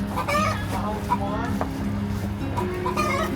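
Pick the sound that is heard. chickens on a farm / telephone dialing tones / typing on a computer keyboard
chickens on a farm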